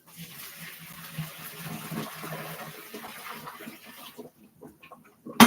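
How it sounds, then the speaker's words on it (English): Water is poured out of a pasta pan into a sink in a kitchen, giving a moderate splashing gush that tapers off, followed by a brief sharp clatter. "Dump the water in here."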